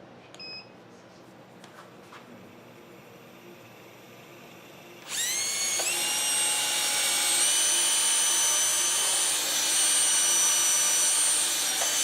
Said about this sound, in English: I'm going to do a quick sand on the inside.